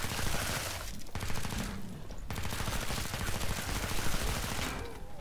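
Sustained rapid SMG fire in Killing Floor 2, a loud, dense stream of automatic shots with brief pauses between bursts, with no voices over it.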